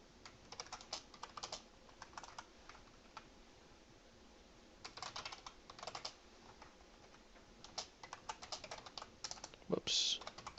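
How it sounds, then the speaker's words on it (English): Bursts of rapid typing on a computer keyboard in a cold room, clicking in short runs separated by pauses, close and fairly quiet, with no voices. "My fingers are cold, I can't type."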